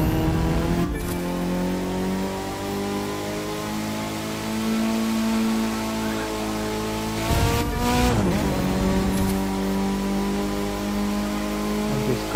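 A racing car engine in The Crew 2 roars steadily and loudly with the pitch shifting, a time-attack style car with a huge spoiler, with a brief squeal or gear change near the end.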